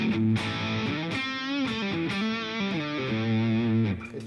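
Electric guitar run through an overdrive pedal stacked in front of a distortion pedal, a loud, thick, saturated riff of shifting sustained chords and bends played continuously with no talk.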